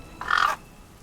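A single loud, harsh caw from a raven, close and brief, standing alone against a quiet background as a spooky narration effect.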